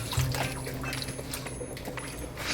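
Apple cider vinegar rinse pours steadily into water for a hair rinse on locs, a continuous close liquid splash and trickle under a low constant hum, no talking.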